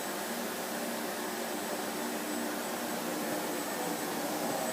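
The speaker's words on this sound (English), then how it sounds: "That is the Hoover on full speed or full sound." A Bosch vacuum cleaner runs at full power, a steady loud broadband whoosh of rushing air with a thin whine on top, constant and uninterrupted with no voices.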